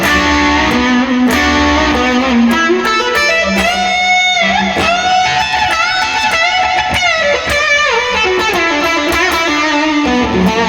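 An electric guitar plays the outro solo of a song, a loud, continuous run of bent and sliding lead lines with a slightly overdriven tone.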